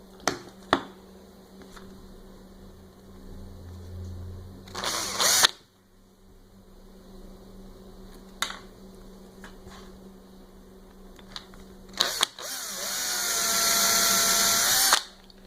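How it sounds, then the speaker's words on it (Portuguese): A small 1.5 mm bit drilling a pilot hole for a screw while assembling the X axis of a Revolution 2 machine, heard as two short, high, close whines of a power drill separated by quiet handling clicks. "A gente vai fazer um furinho aqui, só um pouquinho, para depois poder parafusar."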